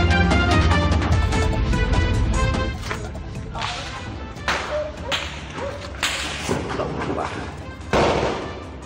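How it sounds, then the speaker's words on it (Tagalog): Gunfire in Tipo-Tipo, Basilan, from a clan feud: a rapid string of sharp cracks, then scattered loud reports that ring and echo, with a voice over them. "Umalingaw-ngaw ang mga putok sa bahaging ito ng tipo-tipo Basilan kaninang umaga."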